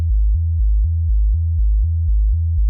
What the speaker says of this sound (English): this is using an LFO on a sine wave